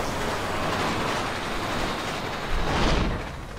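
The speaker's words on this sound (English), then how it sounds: "Train's coming!" A train approaching in the video game Resident Evil 6, a loud continuous rumble and rattle of rail cars that swells near the end, with no talking.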